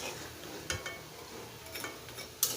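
Nimki pastries deep-frying in a pan of hot oil give a steady, soft sizzling hiss, with a few sharp clinks of a utensil against the pan.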